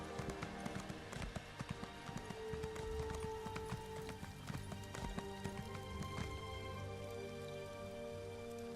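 Horse hooves clip-clopping at a gallop in The Elder Scrolls Online, a steady run of close hoofbeats over a busy game soundscape with rain-like patter and music tones, no talking.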